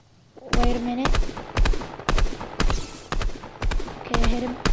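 Gunfire in the Fortnite video game: a quick run of loud, sharp shots in separate bursts of two or three, close and punchy, with a voice briefly audible at the start.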